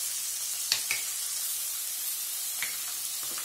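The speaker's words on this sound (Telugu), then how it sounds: "ఇలా వేసుకున్న తర్వాత 1-2 నిమిషాల పాటు బాగా ఈ ఆనియన్స్ని వేపుకుందామండి మనము" Thinly sliced onions sizzle in hot oil for a masala chicken gravy, a quiet, steady hiss broken by a few soft crackles and pops, with no talking.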